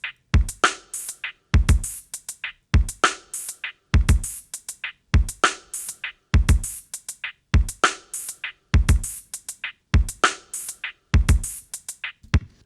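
A steady drum pattern in which each bar holds a single snare hit among kick and hi-hat strokes, repeating in a tight loop of crisp percussive hits with clear gaps between them, played alone with no talking.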